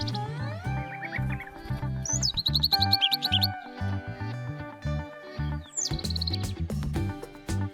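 Bright chirping bird song in repeated trilled phrases over a steady musical backing, clear and close.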